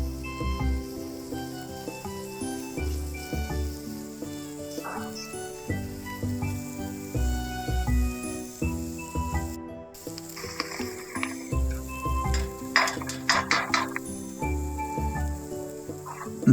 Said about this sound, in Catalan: Posem oli de nou a la paella i fregim el calamar i la sípia uns 3 minuts